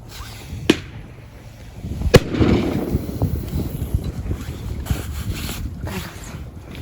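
Two sharp start-signal shots crack at a Polish feeder fishing championship, one faint and one louder a moment later, over wind buffeting and light outdoor background noise.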